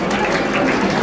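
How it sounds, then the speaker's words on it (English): An audience at a university college annual function prize ceremony applauds, a dense, loud, continuous wash of clapping from many hands, heard close and without talk. "please keep clapping"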